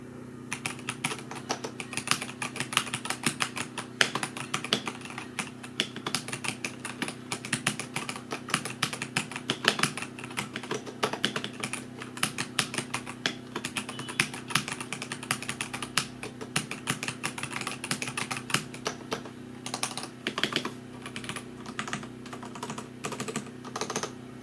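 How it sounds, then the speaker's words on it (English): Rapid typing on a Redragon SHACO 60% aluminum mechanical keyboard with red linear switches gives a dense, continuous clatter of close keystrokes over a steady background hum. "We'll do a typing test real quickly just to show you what this keyboard sounds like"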